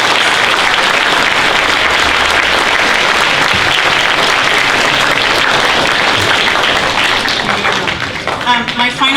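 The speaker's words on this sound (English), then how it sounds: "So a huge round of applause for all of our family members." A concert audience applauds family members at a school advanced band performance, dense sustained clapping that fills the room, with a few voices rising near the end as it thins out.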